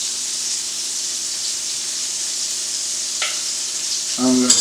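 Butter sizzles gently in a pan over fairly low heat, a soft steady hiss with a brief clatter near the end, no talking.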